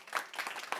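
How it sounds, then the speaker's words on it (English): A startup pitch audience gives a short burst of clapping for a contestant, a few quick, uneven claps close by. "let's first hear the applause for Pascal"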